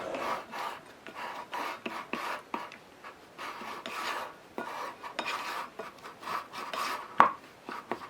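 Bread dough being mixed in a bowl with vinegar, salt and egg white, giving soft, rhythmic rasping and scraping strokes with one sharper clink near the end, faint and close, with no talking.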